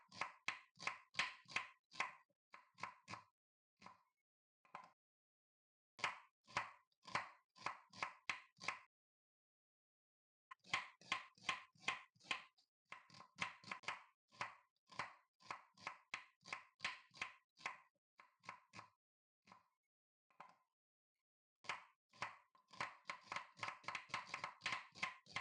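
A knife finely chops ginger on a cutting board, bursts of quick sharp taps separated by short pauses, close and crisp with no talking.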